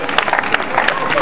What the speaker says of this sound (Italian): Un applauso ai giovani!